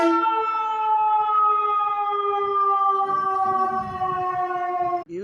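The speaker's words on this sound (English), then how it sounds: "Oh, that's the ambulance." An ambulance siren on a Chicago street, a loud steady wailing tone with strong harmonics held for about five seconds, alone with no talk.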